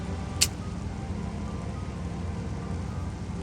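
Steady rain patters continuously in the video game Metroid Prime Remastered, falling on a gun, hand and visor, with a brief sharp click near the start and no talking.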